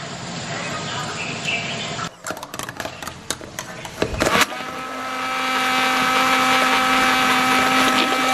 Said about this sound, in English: use the stick blender to blend it all up